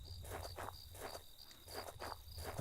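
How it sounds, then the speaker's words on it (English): Footsteps in a video game crunch in a steady walking rhythm, about five paced steps heard close but quiet over a constant high insect-like chirping bed. "Footsteps getting louder."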